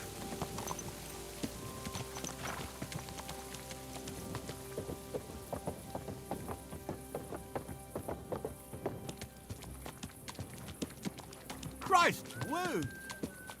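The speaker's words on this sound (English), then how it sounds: "Watch out for that horse." Horse hooves in the video game Kingdom Come Deliverance 2, a rhythmic clip-clop of a riding horse over rainy ambience, with a person's voice exclaiming near the end.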